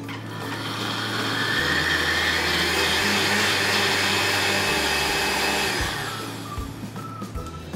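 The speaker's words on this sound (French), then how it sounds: "maintenant, on va mixer notre piperade" Blender puréeing piperade vegetables for a jus to go with guinea fowl suprême, a loud steady whirring motor running for about six seconds before winding down, with no talking.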